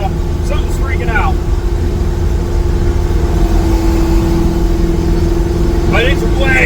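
Engine of a 1955 GMC truck revving against its rev limit after traction fixes, a loud sustained droning hum heard from inside the cab, with someone talking over it.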